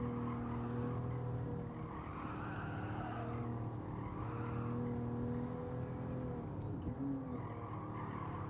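Car braking with tyre skid in Gran Turismo 7 at Autopolis, in a Toyota Alphard Executive: a steady engine drone with a squealing skid layer rising and falling through the run, loud and continuous, no talk.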